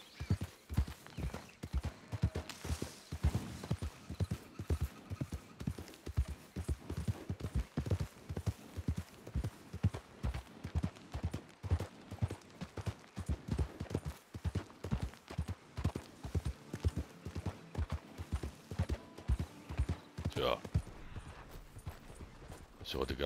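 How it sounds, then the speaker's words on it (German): Horse hooves clip-clop in a steady, rhythmic gait throughout while riding in Red Dead Redemption 2, fairly close and continuous, with speech at times over them. "Reiten wir erstmal zurück ins Lager."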